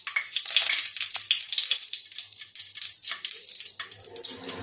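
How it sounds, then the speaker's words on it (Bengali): Bay leaf, dried red chillies and a little sugar frying in mustard oil in a pan for a thin rohu fish curry, giving a steady close sizzle with light crackles and occasional stirring, no talking. "কিছুটা পরিমাণ সরিষার তেল দিয়ে দেবো, তেজপাতা, শুকনো লঙ্কা"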